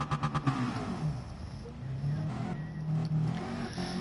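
Race car engine of a red McLaren in Gran Turismo Sport, a steady droning roar with rising and falling pitch, heard close and continuous.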